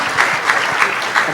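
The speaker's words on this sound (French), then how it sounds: "Donc, mesdames et messieurs, sous vos applaudissements." A crowd at a year-end student ceremony applauds steadily, a dense wash of clapping hands that holds at a strong level throughout.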